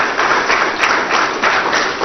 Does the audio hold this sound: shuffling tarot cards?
no